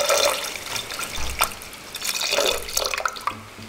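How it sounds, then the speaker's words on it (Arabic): Water pours into a white soup pot (chorba beida, a tomato-free white soup) in a home kitchen, a splashing, trickling stream rising and falling in short bursts with no talk. "نزيدو لها شوية تاع الماء على حساب أفراد العائلة تاعك."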